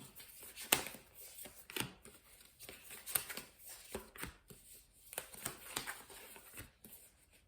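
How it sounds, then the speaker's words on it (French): Tarot cards are laid one by one onto a spread of other cards, making soft, quiet taps and slides at an irregular pace, each with a light papery flick. "nous allons mettre une carte sur chaque carte du tarot précédent"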